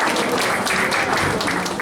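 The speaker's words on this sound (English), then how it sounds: "Can we give a round of applause for them?" An audience at a university white coat ceremony applauds in a dense, steady wash of clapping close by, with no voices over it.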